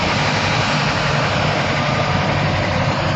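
A military drone flies past during an Indian army parade in Jagatpura, its engine a loud, steady, continuous roar with no break or talk.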